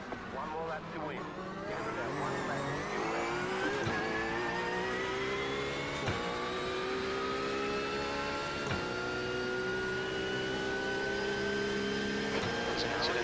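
GT3 race car engine in the iRacing sim at Donington, a sustained rising whine with overtones climbing through the gears and brief shift breaks, steady and loud, with a voice talking over it.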